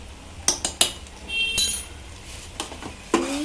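A spoon clinks and scrapes in a pan as garam masala is stirred into vangi bath: a few sharp metallic taps, then softer scraping and another knock, close and clear with no speech.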